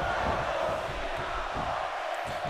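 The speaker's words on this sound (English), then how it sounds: "This crowd chanting, Let's go Cena, RKO." Arena crowd in the wrestling video game WWE 2K16, a dense, continuous roar of many voices chanting and cheering, loud and sustained throughout.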